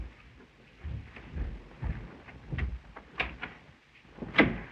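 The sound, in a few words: knock at the door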